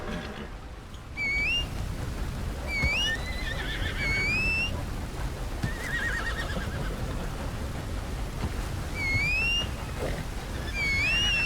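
In a video game, a horse gives several high, wavering whinny-like calls spread over a constant ambient hiss, moderately loud and with no talk.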